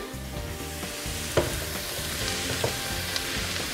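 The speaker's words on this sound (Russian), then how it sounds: "Немножко лук поджарили. Берем грибы." Onion and mushrooms sizzle in a frying pan: a soft, steady crackling hiss with a few light clicks from stirring, and no voices.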